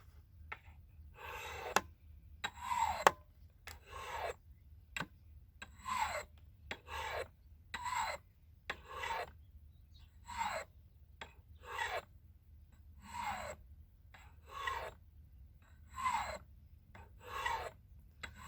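Repeated rasping strokes of a knife blade drawn across a fine sharpening stone, about two per second in bursts with short pauses, close and fairly quiet with no talking.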